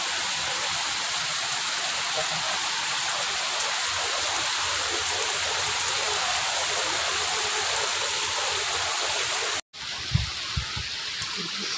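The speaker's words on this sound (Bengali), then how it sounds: "একটু বৃষ্টি হচ্ছে দেখতে পাচ্ছি" Rain falls steadily, a dense continuous hiss of drops on surfaces close by, broken by a short cut near the end followed by a few soft knocks.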